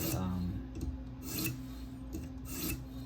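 Sharpening stone rubbed back and forth along the bevel of a K390 steel Delica knife on a TSProf K03 guided sharpener, giving steady raspy scraping strokes in a regular rhythm, close and moderately loud.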